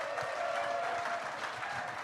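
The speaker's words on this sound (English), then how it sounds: "big round of applause for this crew" An audience at a craft brewers' conference panel gives steady, sustained clapping for the panel crew, a full even wash of many hands without a break.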